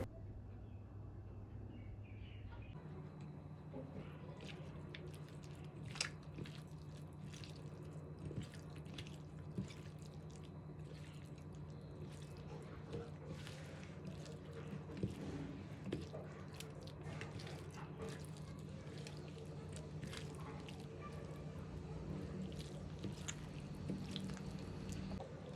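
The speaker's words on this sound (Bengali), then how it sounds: "প্রয়োজন মতো সর্ষের তেল দিয়ে খুব ভালোভাবে সব উপকরণ আলতো হাতে ম্যারিনেট করে নেব" Seven pabda fish are worked by hand with mustard oil and spices, giving quiet wet squishing and dripping sounds at close range over a low steady background hum.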